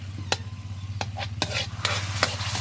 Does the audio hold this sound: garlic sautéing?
yes